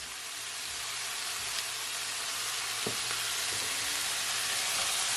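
Chicken, vegetables and noodles stir-fry in a hot pan, giving a steady, close hiss of sizzling with a few faint clicks and scrapes of stirring, no voices.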